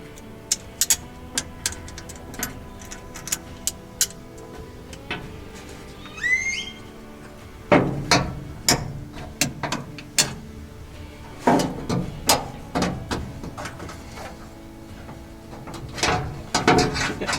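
A bolt holding a ground wire on a 1955 Ford F100 truck is tightened, giving a series of sharp metallic clicks and ratcheting bursts at close range, irregular and separated by short pauses.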